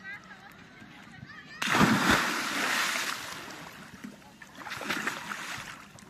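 People jumping into cold water at the Aubad Tulln bathing spot: a sudden loud, close splash breaks in after a quieter start, followed by washing, churning water and a second swell of splashing, with voices faintly around it.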